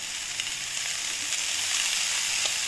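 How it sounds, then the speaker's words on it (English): Cooked, drained brown rice hits a hot pan and sizzles steadily, a close, even hiss of frying that carries through with no talk. "Now, I'll add the drained and cooked brown rice."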